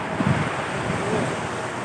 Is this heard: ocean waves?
yes